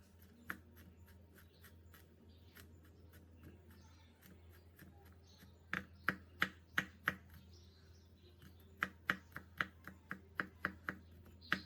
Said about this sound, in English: Take about 3 large cloves of garlic, peel, crush, and mince.